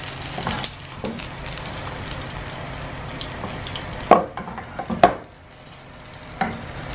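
An omelet sizzling softly in a frying pan while being folded, with faint frying hiss under a few sharp scraping and tapping bursts of a utensil against the pan.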